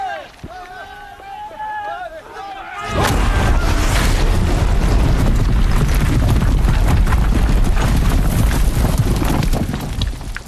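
Heavy guns in Horizon Zero Dawn open fire in a loud, dense barrage after about three seconds of quieter voices and tones, with booming blasts and battle noise sustained to the end.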